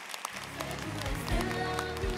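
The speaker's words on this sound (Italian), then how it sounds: "Applauso, applauso." Applause for a young child model at an under-9 children's fashion show, a steady crowd clapping that swells in after a brief quiet start, with a host's voice and music faintly underneath.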